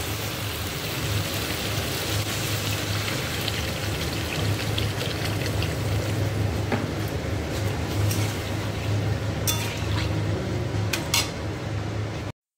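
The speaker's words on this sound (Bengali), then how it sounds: "মশলা কষানো কমপ্লিট, এবার জল দেব।" Water pours steadily into a pan of fried ginger, onion and garlic spices for a thin curry, a continuous hissing splash with occasional clinks of utensils, close and fairly loud.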